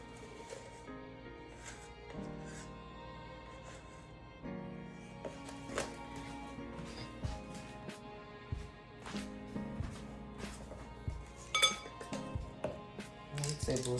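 Muffin batter being mixed in a bowl: light clinks and scrapes of a utensil against the bowl, irregular and fairly quiet, with a faint soft background.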